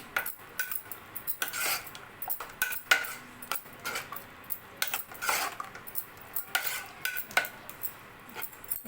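Boiled peanuts and chana dal being mixed in a pan, a metal spoon scraping and clinking against the pan in quick irregular strokes, fairly quiet with no voices.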